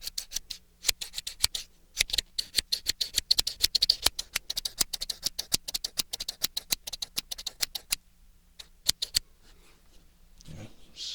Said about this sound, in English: Scissor sounds.